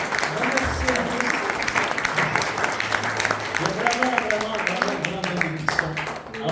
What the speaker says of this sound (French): donnez-vous une bonne main d'applaudissement, une bonne main de remerciement